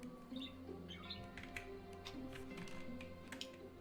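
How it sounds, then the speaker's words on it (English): Pet birds chirp and tweet in a steady stream of short high calls over a constant low indoor hum, with scattered taps; no talking. "my birds are vibing"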